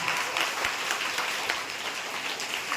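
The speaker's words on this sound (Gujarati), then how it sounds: "જોરદાર તાળીઓ થઈ જાય." Students at a primary school event clap together in a steady burst of applause, fairly distant and even, lasting the whole moment.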